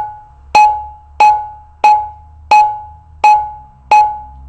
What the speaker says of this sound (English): So the first sound is called ta.